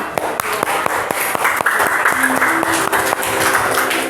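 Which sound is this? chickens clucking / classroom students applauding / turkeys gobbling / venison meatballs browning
classroom students applauding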